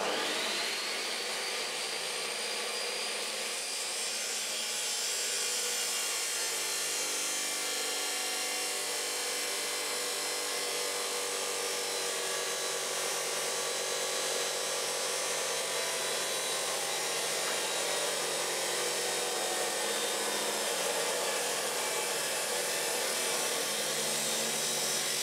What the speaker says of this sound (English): we're going to cut some steel pipe using the DeWalt chop saw